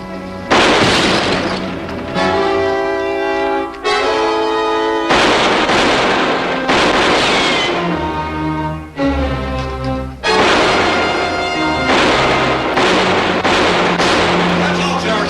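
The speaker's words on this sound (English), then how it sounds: "Stay here and keep firing." Gunfire in a 1953 western film: a busy battle of repeated booming shots and ricochets mixed with orchestral score, loud and nearly continuous, with occasional voices.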